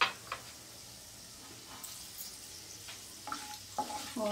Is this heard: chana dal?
yes